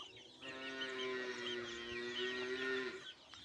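A desi chicken on a poultry farm lets out a single drawn-out, tonal call lasting about two and a half seconds, fairly close and clear against a quiet farmyard background.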